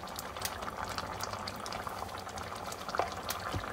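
Oil goes into a karahi for mutton karahi, giving a continuous close bubbling, pouring liquid sound with a few faint clinks.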